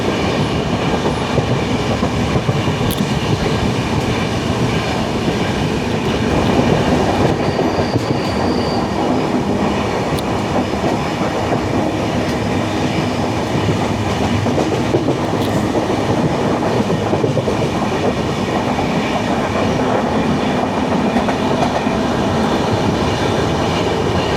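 Close, loud, continuous rumble of a Jan Shatabdi express running at speed on the Shoranur–Thiruvananthapuram line, with rattling wheels, clickety-clack over rail joints and occasional faint squeals, sustained and alone without talk.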